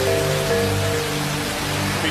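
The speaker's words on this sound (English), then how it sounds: "At the site, the skies open. A torrential downpour" Torrential rain pours down on a construction site, a loud, steady wash of noise with a low machine-like hum running beneath it.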